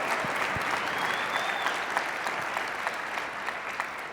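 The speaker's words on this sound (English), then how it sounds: "Now you're supposed to clap right there because that's admirable." A convention crowd claps together, a loud, steady burst of applause from many hands filling the room for a few seconds with no voices over it.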